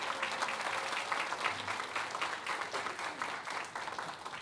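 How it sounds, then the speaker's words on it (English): A round of applause for an elementary school group at a school board meeting, steady clapping from a roomful of people for several seconds. "Let's give Simonsdale a round of applause."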